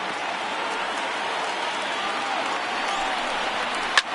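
Steady roar of a large stadium crowd of about 26,000 fans in the baseball video game MLB The Show 19, a broad continuous wash of cheering with a brief sharp accent near the end.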